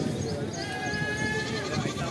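Goat at a Sunday pet market in Hyderabad, bleating amid a continuous bed of crowd noise and nearby talk, the calls faint and partly masked.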